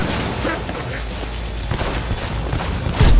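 Dense, continuous gunfire rattles through a fight in the video game Cyberpunk 2077, loud and close, ending in a heavier burst.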